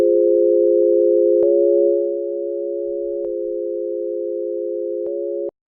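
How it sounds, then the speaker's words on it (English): A steady, pure electronic sine tone holds one pitch, with brief clicks as it shifts slightly and then cuts off abruptly at the end. "we're going to stick with the sine wave that we have"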